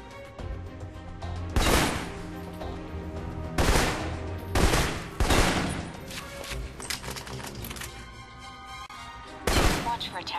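Bursts of assault rifle gunfire in Alpha Protocol, several loud rattling volleys spaced a second or two apart, with game music and a voice talking underneath.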